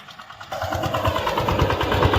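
A tractor engine runs steadily in a cotton field while earthing up the furrows, starting after a brief quiet moment with a loud, close, rhythmic mid-pitched chug and rattle.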